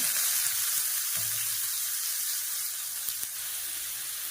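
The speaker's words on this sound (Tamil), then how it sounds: "இதில் தட்டி வச்சிருக்க வெங்காயம், அப்புறம் பூண்டு போட்டுக்கிறேன்" Crushed onion, garlic and curry leaves sizzle steadily in hot oil in a pan, a continuous close frying hiss with a couple of faint stirring clinks, no talking.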